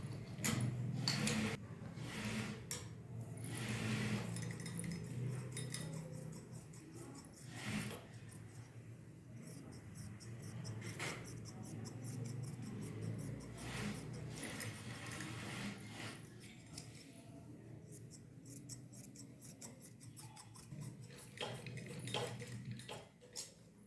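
Scissors cutting trouser fabric: intermittent soft snips and crisp rustling strokes, fairly faint, spread over a long stretch with handling noises between.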